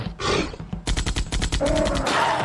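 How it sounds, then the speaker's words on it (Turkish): Bursts of cartoon gunfire in an Italian Brainrot animation: a short blast, then a rapid string of sharp shots like a machine gun, loud and close, ending in a rough roaring noise. "Aa silah da aldılar. Şimdi vuracaklar."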